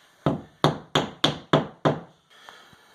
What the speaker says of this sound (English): And we're tapping it in with our hammer.